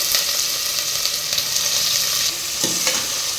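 Onions frying in a pan after green chillies, cinnamon, cloves and star anise, a loud steady sizzle with a few stirring scrapes, close and continuous, no voices.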